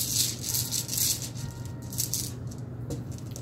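Rune stones rattle and clatter in a bag as one is drawn, several bursts of close, light clicking that come and go, fairly quiet with no talking.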